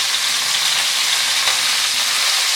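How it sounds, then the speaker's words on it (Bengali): Florets from a large cauliflower fry in hot oil with a loud, steady, dense hiss of sizzling that stays even throughout, close by and with no voices. "একটা বড় সাইজের ফুলকপির ফুলগুলো আমি ছাড়িয়ে নিয়েছি, সেগুলোকে ভেজে নেব"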